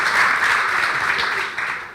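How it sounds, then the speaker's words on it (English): Conference audience applauding, a steady broadband wash of many hands clapping close and loud for about two seconds, tapering slightly at the end. "Big round of applause"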